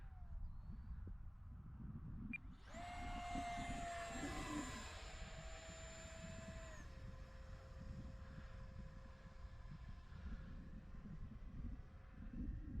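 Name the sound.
Arrows Viper RC model jet flying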